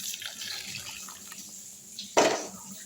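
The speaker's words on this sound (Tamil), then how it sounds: "இப்போ இதை வடிகட்டிடலாம். ஒரு கண் வடி வச்சு அதில் வடிகட்டிடுவோம்." Moringa (drumstick leaf) soup is poured through a sieve in a kitchen, giving a steady, soft liquid trickle that swells into a brief louder splash near the end.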